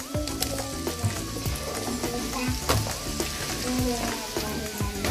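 Pumpkin added to frying onions in a pan, giving a dense, rain-like crackling sizzle close by, with a soft voice now and then underneath.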